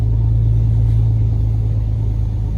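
A Chevy S10 pickup with an LS 383 V8 idles while it sits on a trailer. Its exhaust gives a loud, close, continuous low rumble with a steady droning tone and no voices over it.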